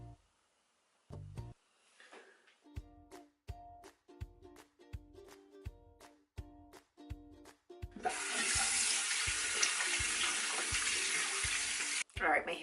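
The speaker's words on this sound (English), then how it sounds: "Let's go ahead and wet our face." Tap water running into a bathroom sink while a face is washed, with a series of rhythmic close splashes followed by a long loud stream of running water that stops abruptly.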